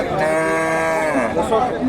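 A Friesian cross cow moos in one long, loud, close call at a busy cattle market, with faint crowd chatter in the background.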